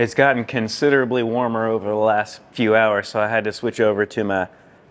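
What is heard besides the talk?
No everyday noise stands out behind the speech.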